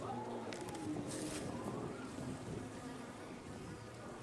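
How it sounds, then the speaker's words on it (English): Bees and wasps buzz steadily close by, a continuous low droning hum with faint outdoor noise around it. "it's an amazing plant to use to attract bees"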